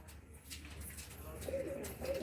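Pigeons coo in a low, continuous murmur on a rooftop during a pigeon-flying contest, set against steady outdoor background noise.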